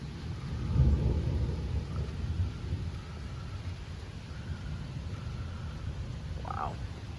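A low distant rumble of thunder rolls over steady rain, fading into a soft continuous patter with a faint sound near the end.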